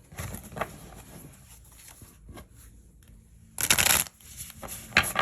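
Tarot cards are shuffled by hand in soft, close bursts of papery patter, then a sharper, louder riffle near the end, with no talk.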